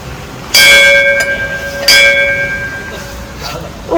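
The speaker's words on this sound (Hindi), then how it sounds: "मुझे भी घंटी बजानी है।" A temple bell at the Vaishno Devi shrine is struck twice, each bright metallic clang ringing out and slowly decaying, with a fainter third tap near the end amid background chatter.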